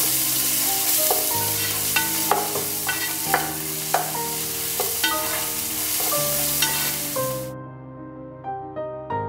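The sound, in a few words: frying onions with ginger garlic paste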